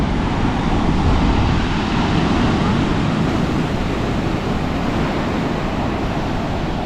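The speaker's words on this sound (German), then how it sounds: "es ist so beruhigend, diese Wellen sind so stark" Loud, continuous roar of strong ocean waves breaking nearby, a dense wash of surf with wind, no pauses.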